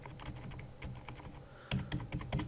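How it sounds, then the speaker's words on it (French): Arrow keys on a computer keyboard are tapped repeatedly, giving a close series of light clicks that grow slightly louder and more spaced toward the end, with no speech. "je peux la déplacer avec les flèches du clavier."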